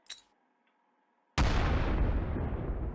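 A grenade bursts in the Call to Battle 2 video game: one sudden, loud boom that fills the sound and then roars on as a long, dense rumble, after a short, faint click.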